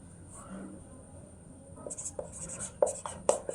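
Writing during a Bengali language lesson: a run of short, crisp scratching taps and strokes, growing sharper in the second half, with faint classroom talk underneath.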